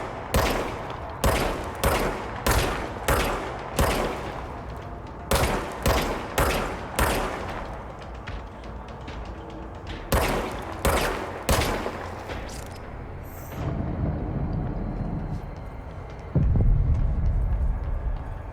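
Bursts of gunfire from a gun in the video game Control ring out in quick, rhythmic volleys of sharp shots, loud and close, then pause before more volleys and fade into a low rumbling hum.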